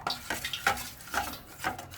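Rice flour, sugar and gram flour batter being stirred in a bowl for Tirupati laddu, giving a steady run of soft, close scraping strokes roughly every half second, with light utensil clinks and no voices.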